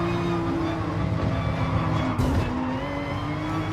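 A race car in a racing video game brakes hard into a tight corner and takes a nudge from behind, its engine droning steadily with a brief scrub of tyres partway through.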